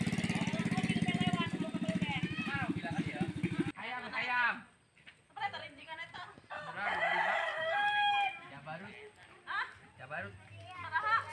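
A rooster crows, with clucking chickens and talk at a lively outdoor village gathering. Other sounds intrude, including a motorcycle-like rumble early on.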